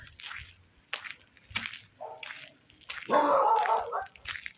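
A dog barks in short separate bursts during a night walk outdoors, moderately distant, with a longer whining or howling stretch partway through and quiet gaps between barks.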